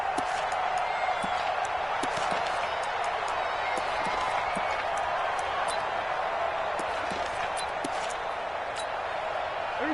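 A football stadium crowd in a PS4 video game keeps up a steady, loud roar throughout, with sharp thumps and bursts scattered through the din.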